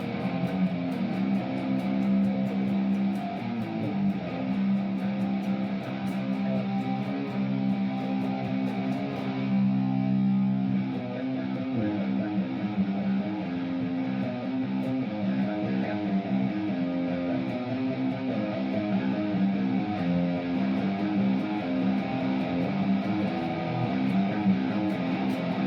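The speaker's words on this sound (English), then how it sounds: "Metal preset with a bit of reverb on" Heavily distorted Harley Benton Amarok electric guitar through a Spark 40 amp's metal preset with a touch of reverb, playing chugging riffs and sustained notes continuously and loudly, with no talking.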